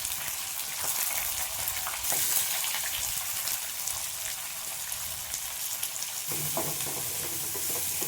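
Chopped onions sizzle and fry in a pan alongside bitter gourd for a thick relish, a steady close crackle with occasional stirring scrapes and no talk.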